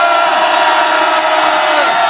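A crowd at an outdoor press conference opposing Israel's bombing of Gaza lets out one long, loud, sustained roar of a cheer that fills the whole moment.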